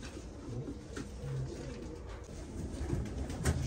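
Soft, low cooing from a male Japanese mango pigeon, a few gentle rolling coos close by amid faint background murmur.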